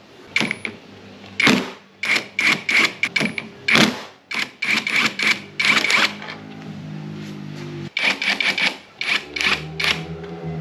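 An impact wrench on a Modenas Elegan 250 motorcycle windshield fires in rapid short bursts, loud and close, with sharp rattling hammering pulses separated by brief pauses.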